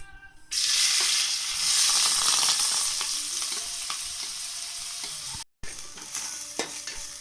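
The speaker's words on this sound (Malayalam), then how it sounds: "വെളിച്ചെണ്ണ നല്ലതുപോലെ ചൂടായിട്ടുണ്ട്. അതിലേക്ക് ഞാൻ സവാള ചെറിയ കഷ്ണങ്ങളായിട്ട് അരിഞ്ഞത്, കറിവേപ്പില, പച്ചമുളക് അരിഞ്ഞത് ഇത്രയും കൂടി ഇട്ട് കൊടുക്കുകയാണ്" Chopped onion, curry leaves and green chilli hit hot coconut oil and fry with a loud, steady sizzle, with a brief stir and a short gap near the end; no one speaks.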